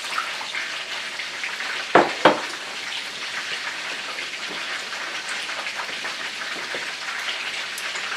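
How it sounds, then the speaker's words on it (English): Chicken frying in a pan while a lemon chicken sauce gets underway, giving a steady hiss and crackle of sizzling oil throughout, close by and with no talk, broken by a couple of sharp louder pops. "while the chicken is frying"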